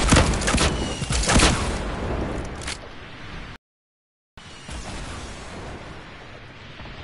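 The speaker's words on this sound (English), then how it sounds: "No, they're shooting us now." Fortnite gunfire crackles in dense, loud volleys with scattered impacts, then continues as quieter sustained shooting after a brief silent gap.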